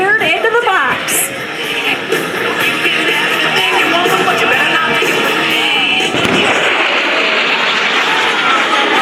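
A jet engine roars loud and continuous as an F-15 Eagle flies its demonstration over a crowded Air National Guard airshow at Joint Base McGuire-Dix-Lakehurst, with a person talking over the noise throughout.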